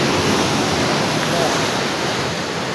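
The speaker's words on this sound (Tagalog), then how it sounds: "Hindi siya ganyan kalaki yung mga alon." Steady, dense roar of surf from a sea near the Pacific Ocean, where the waves are not large, filling the whole stretch, loud and continuous with no distinct breaks between waves.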